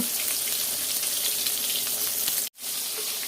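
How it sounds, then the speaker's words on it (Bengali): Eggplant slices fry in hot oil with a steady, loud, crackling sizzle that runs continuously, broken by one brief drop to silence near the end before resuming. "এমন করে একে একে সবগুলা বেগুন ভেজে নেব"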